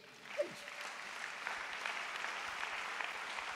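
A church congregation applauds in a steady, diffuse patter that continues throughout, with a brief vocal cry near the start.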